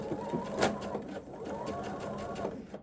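A sewing machine stitches a small scrap of fabric as a leader piece while chain piecing patchwork, a quiet, steady mechanical whir with a faint rapid needle patter, heard close but soft.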